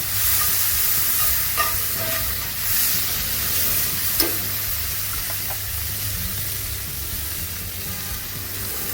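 Tomatoes cooking in a hot pan for a salmon pan sauce, giving a steady broad sizzle with a low hum beneath and a few faint clicks of stirring, close and continuous without speech.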